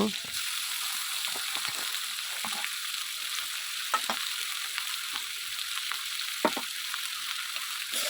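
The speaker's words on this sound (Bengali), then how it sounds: "আলু পেঁয়াজ এবং আদা রসুন বাটা একসাথে ভেজে নিব" Potatoes and onions with ginger-garlic paste fry in a pan, giving a steady broadband sizzle with a few soft stirring clicks and scrapes throughout.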